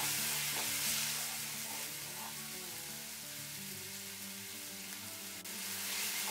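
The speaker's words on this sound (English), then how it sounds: "It is going to splutter a bit because the onions have got water in them." Chopped onions still wet with water fry in a pan for a chicken curry, giving off a steady, close hiss of sizzling and spluttering with scattered pops, with no talking.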